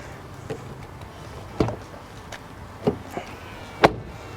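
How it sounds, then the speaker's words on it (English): A few sharp mechanical clicks and clunks from an Infiniti QX30 crossover door being unlocked with the key, spaced irregularly over a quiet background, close by. "So unlock the door."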